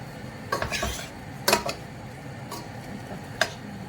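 Meat roasts in a pan with peppers while a utensil stirs it, clinking and scraping metal in a few distinct knocks over a faint background sizzle, close up and without speech.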